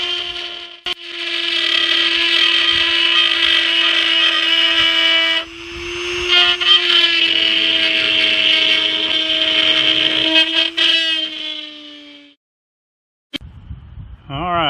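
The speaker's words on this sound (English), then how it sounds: "So I'll take a little Dremel tool, a little Dremel bit, and just cut that out." A small Dremel rotary tool with a cutting bit whines steadily and loudly at high speed for about twelve seconds, its pitch dipping slightly as it bites into the material, then spins down and stops, followed by a brief clatter.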